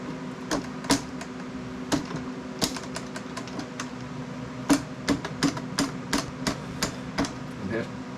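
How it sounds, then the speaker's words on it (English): A fire lap bullet being hammered into a rifle bore through a bore guide, sharp metallic taps struck one at a time at an uneven pace, close and fairly loud over a low steady hum. "And have to pretty much just keep hammering it down."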